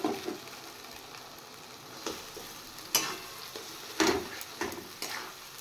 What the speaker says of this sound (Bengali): এবার পুরোটা ভালো করে একসাথে মিশিয়ে নুন দিয়ে একদম শুকিয়ে নেব।